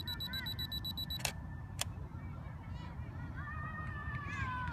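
A camera self-timer beeps before taking a photo outdoors at night, a rapid series of high electronic pulses followed by sharp clicks, over a steady background murmur with faint voices.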